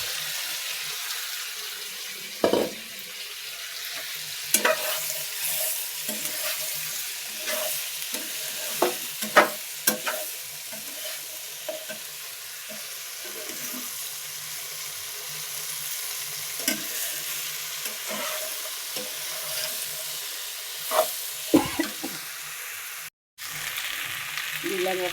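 Okra stirred and frying in a pot gives a steady soft sizzle throughout, broken by intermittent scraping and clanking of a utensil against the pot, with one brief dropout near the end.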